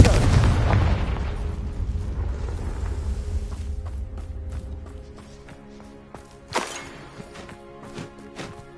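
A Confringo fire spell blasts in the Hogwarts Legacy video game, a loud booming explosion that rumbles for several seconds before fading, followed by a few smaller sharp impacts.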